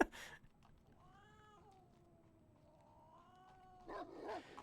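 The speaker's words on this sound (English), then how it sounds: "All I hear is cats." Cats meowing in a video game scene, several drawn-out meows, one long and wavering in the middle, fairly faint and clear with little else around them.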